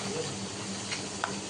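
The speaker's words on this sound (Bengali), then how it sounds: "কড়ার মধ্যে দেখো তেলের মধ্যে দিয়ে দিলাম" Steady sizzling hiss of frying in hot oil in a kadai, a dense continuous crackle filling the short moment at close range.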